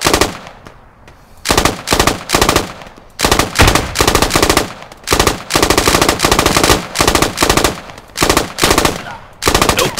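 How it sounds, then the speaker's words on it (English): Bursts of automatic rifle fire in the military shooter game Squad during a large 72-player firefight, with rapid loud volleys of several seconds each separated by brief pauses, steady and close throughout. "Doing a little bit of covering fire as my guys walk up the hill."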